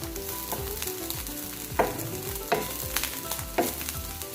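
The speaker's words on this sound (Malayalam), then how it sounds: "ഇട്ടിളക്കുക തേങ്ങ ഒരുവിധം ചൂടായി കഴിയുമ്പോൾ വേപ്പിൻ്റെ ഇലയും ഇടുക" Grated coconut and curry leaves roast in a pan with a soft, steady sizzle, broken by a few scraping stirs of a spoon, close and moderately quiet with no talking.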